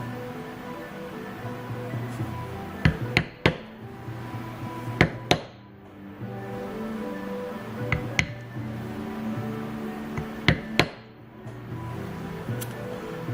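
A mallet strikes a large cam shader stamp to tool flower and leaf patterns into leather. Sharp, close taps come in pairs and small clusters with short pauses between them, over a low steady background hum.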